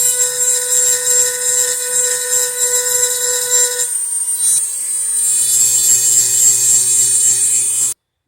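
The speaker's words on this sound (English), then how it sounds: "We've sanded, or dremeled, if you will." A Dremel rotary tool sands a P80 guide rail, giving a loud, close, continuous high whine with a grinding rasp that briefly falters and then resumes at full speed.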